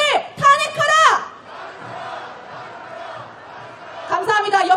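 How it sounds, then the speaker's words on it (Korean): Protesters at a street march for impeachment shout slogans in unison, loud voiced bursts at the start and end with a murmuring crowd roar between them, heard from close by. "옆에 인도에 계신 시민분들께서 함께 구호 외쳐주고 계십니다"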